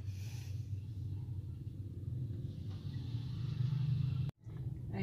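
A family car is driven out, its engine giving a low, steady rumble that holds for several seconds, moderately distant, before cutting off abruptly.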